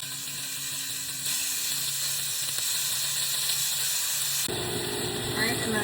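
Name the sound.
steaks searing in an oiled skillet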